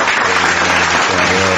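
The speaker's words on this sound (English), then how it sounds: "Round of applause for us." Steady, dense applause from a studio audience on a podcast set, loud and continuous for the whole moment with no pauses or talk over it.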